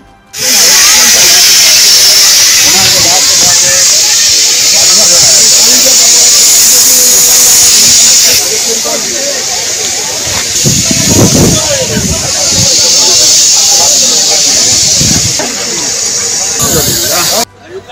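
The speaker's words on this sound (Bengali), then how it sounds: "फायर एक्सटिंग्विशर सब मार के बुझा दिया" A fire extinguisher sprays onto a burning wheel of the Kulik Express train, making a loud continuous hiss for most of the clip with brief dips, while people talk in the background.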